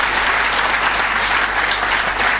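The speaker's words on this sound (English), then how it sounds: "Give them a massive, massive round of applause." Large audience at a talk on the NHS breaks into loud, sustained applause, dense steady clapping that fills the room for the whole stretch with no voices over it.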